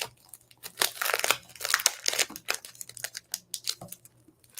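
Close, busy crinkling and tearing of plastic and paper packaging as a paper pad is unwrapped, in quick irregular bursts with no pauses.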